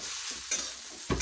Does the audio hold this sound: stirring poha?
yes